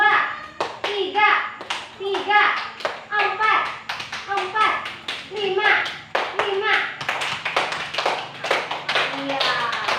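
Schoolchildren in a classroom play a rhythmic counting clap game, sharp close hand claps landing in steady patterns while young voices chant numbers between and alongside the claps.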